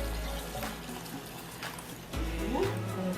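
Two liters of water poured into a cooking pot for chicken arroz caldo, a splashing, gurgling fill with a brief pause, close and fairly loud.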